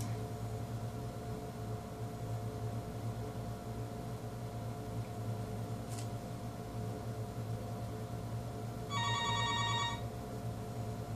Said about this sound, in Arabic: تليفون البيت يرن